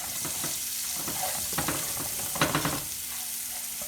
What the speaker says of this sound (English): I let that stir fry as well